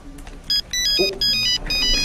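A phone ringtone plays a bright, repeating electronic melody of short tonal bursts, loud and close, with a brief low thump partway through.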